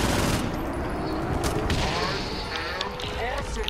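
Rapid shotgun gunfire in the Saints Row 4 video game, a dense burst of sharp blasts with crashing debris, loud and close, with people talking over it.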